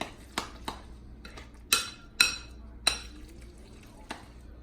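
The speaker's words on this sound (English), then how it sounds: "And mix the tomato in." Tomato being mixed into homemade guacamole in a bowl, heard as a series of irregular clinks and scrapes of a utensil against the bowl, about eight distinct taps, close and clear without talk.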